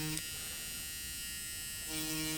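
A Dremel rotary tool grinds a pad on an iPhone logic board, giving a steady, close high-pitched whine that runs continuously for about two seconds.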